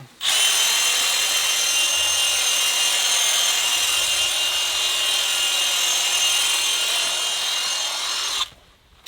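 A Milwaukee M12 cordless hedge trimmer cuts boxwood shrubs, giving a loud, steady high-pitched buzzing whine up close that runs unbroken for about eight seconds before cutting off abruptly.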